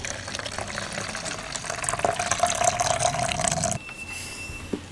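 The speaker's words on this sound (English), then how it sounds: "add a few drops of washing up liquid into the pot, followed by some lukewarm water I got from the kettle" Lukewarm water with a few drops of washing-up liquid runs steadily into the pot of a Wagner W100 spray gun for several seconds with a rising tone as it fills, then stops, leaving a quieter hiss.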